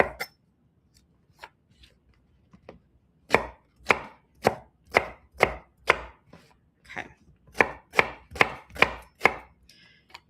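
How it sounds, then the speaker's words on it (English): Knife chopping vegetables on a board for a slow cooker caponata, a run of sharp, close, steady cuts that starts sparse and then picks up into a fast regular rhythm, with no talk. "As I'm chopping this, I'm throwing this into my slow cooker."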